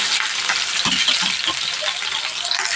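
Onions hit hot oil that already holds cumin and mustard seeds, giving a loud, steady hiss and sizzle close to the microphone, with a few soft stirring knocks mixed in.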